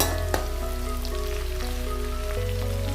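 Chopped green chillies fry in hot oil for chilli chicken, giving a dense, even crackling sizzle that holds steady throughout under a low hum, with one brief sharp knock near the start and no talk.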